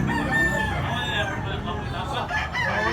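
A young fighting rooster, a bullstag, crows at a cockfighting venue in Tabunok, Cebu, loud and close, amid other clucking fowl and background chatter.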